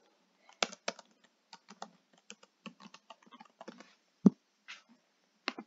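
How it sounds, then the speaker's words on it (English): A password is typed on a computer keyboard in a quiet room, with close, sparse key clicks in uneven bursts and one sharper, louder keystroke near the end. "And then type in your password. And type your password again."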